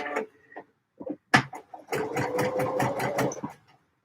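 A sewing machine stitches a D&G shirt in short bursts, first a few brief clatters, then a rapid run of rhythmic mechanical stitches, close and clear in a quiet room.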